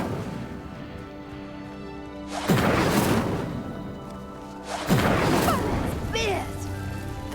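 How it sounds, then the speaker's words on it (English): A burning pyre sinks into the ground in the Hogwarts Legacy video game, heard as two loud, broad rumbling crashes a couple of seconds apart over a steady ambient game music bed. "The flames make the pyre sink."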